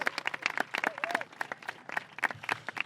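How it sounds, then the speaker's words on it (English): An outdoor community audience at a San Diego environmental volunteer event claps in a sparse, uneven burst of individual hand claps, close and distinct, with a faint voice briefly underneath. "Give me a round of applause for introducing Congressman Peters."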